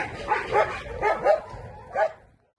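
Several dogs at a shelter housing about 80 dogs bark and yip in quick irregular bursts, fairly close, with whimpering mixed in before falling silent.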